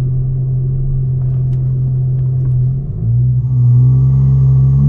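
An Infiniti idles with a loud, deep, steady rumble at a drag race, dipping briefly and then settling back into a heavier drone.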